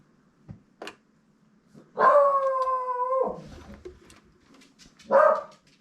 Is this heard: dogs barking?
yes